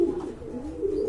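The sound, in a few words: pigeons cooing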